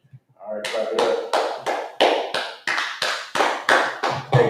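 A crowd claps in a steady rhythm, about a dozen sharp, even beats. The clapping starts softly and holds a loud, regular pulse.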